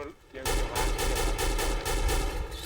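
A Silver ARX16 rifle fires in the shooter game XSHOT: loud, rapid, evenly spaced bursts of shots, close and steady, with no voices.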